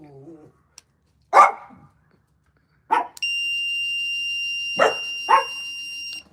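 A dog barks in a few sharp, loud single barks spaced seconds apart, close by, while a steady high electronic beep like an alarm tone sounds underneath.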